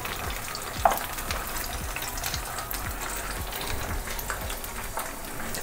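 Garlic pork roast frying in a pan, with a steady crackling sizzle and repeated scraping and stirring knocks from a utensil against the pan, plus one sharp clink near the start.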